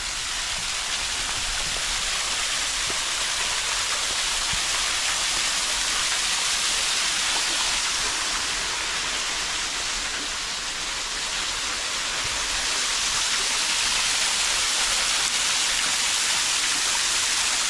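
Blue Hen Falls in Ohio's Cuyahoga Valley National Park pours with a steady, full rushing roar that stays close and unchanging the whole time, with no voices over it.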